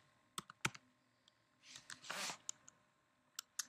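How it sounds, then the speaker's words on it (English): Someone types a login name on a computer keyboard, close and quiet: a few scattered key clicks, then a short rapid burst of typing, then more sparse taps. "I'm just going to type in login and then I'm going to type in my login name where it says username"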